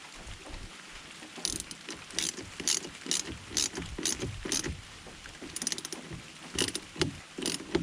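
A ratchet wrench tightens the alternator mounting bolts on a Ford F-350 Super Duty with a 6.8L Triton V10. The ratchet gives close, rapid bursts of clicking in short, uneven runs, with pauses between strokes.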